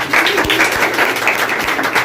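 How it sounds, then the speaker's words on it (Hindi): Loud applause rings out for students at a Teacher's Day celebration, a brief, dense burst of many hands clapping close by, with no talk over it. "उसके लिए जोरदार तालियां होनी चाहिए"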